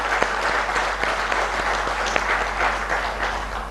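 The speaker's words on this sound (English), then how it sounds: "I think they deserve a big round of applause." An audience applauds steadily at a ground-breaking ceremony for a new pharmaceutical facility, a dense even patter of many hands with a low hum beneath it.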